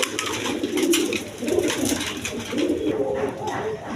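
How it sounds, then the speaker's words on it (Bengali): Farm pigeons of a large, fancy show breed coo in repeated low rolling phrases close by, with faint background voices and chatter around them. "কোয়ালিটি সম্পন্ন কবুতর।"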